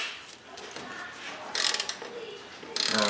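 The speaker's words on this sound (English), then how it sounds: "The old double up the wrench trick." A wrench ratcheting on a control arm bolt of a GMC/Chevy 1500 pickup truck, two short bursts of quick metallic clicking against a quiet garage background.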